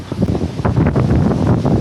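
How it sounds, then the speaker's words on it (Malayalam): Strong wind buffets the microphone in loud, rumbling gusts at a temple in Kerala, blustery and uneven throughout. "ഭയങ്കര കാറ്റ് കേട്ടോ ഭയങ്കര കാറ്റെന്ന് വെച്ചാൽ ഒരു രക്ഷയില്ലാത്ത കാറ്റാണ് അടിക്കുന്നത്"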